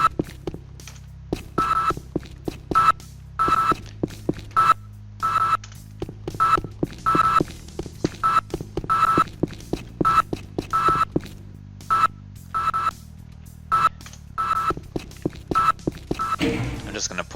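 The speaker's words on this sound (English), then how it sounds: "the beeps may be a bit too loud" Sentry turrets in the game Alpha Division emit a repeated series of sharp electronic beeps with thunking impacts at an irregular pulse, fairly loud and close.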